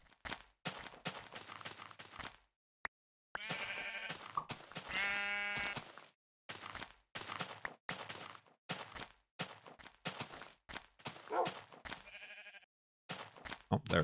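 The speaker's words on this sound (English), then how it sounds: "Oh, there it is. I knew there was another sheep." Several short bleats from sheep in Minecraft Beta 1.7.3 cut through a stream of chopped, clicky game sounds, repeated a few times at moderate loudness.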